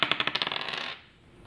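A die rolled for a board game clatters in a rapid run of small hard clicks and rattles, close and fairly loud, then settles into quiet after about a second.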